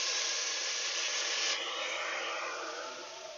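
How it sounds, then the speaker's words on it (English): Steam hisses loudly and steadily as broth hits a hot braising pot of beef, a close, continuous rush that eases slightly toward the end. "Watch out for steam, it is hot."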